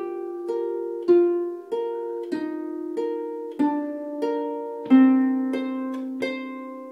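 A Celtic harp plays the first phrase of a tune beginning on the B above middle C: about a dozen plucked notes in a steady, unhurried rhythm, each ringing on, clear and alone.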